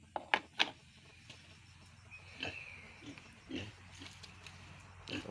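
Quiet low grunts and snorts from a pig come in short bursts, with a few sharp clicks and knocks near the start.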